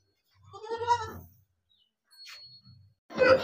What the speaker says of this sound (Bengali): সমস্ত খাসি আর পাঁঠাগুলো এইদিকে আছে